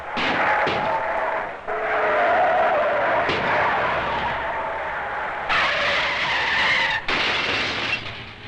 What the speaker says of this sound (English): Most curious of all automotive sport, the demolition derby